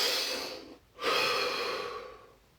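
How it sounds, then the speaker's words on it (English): A single deep breath, drawn in steadily, a brief pause, then a long, close, airy exhale that fades out slowly, heard alone. "Deep breath."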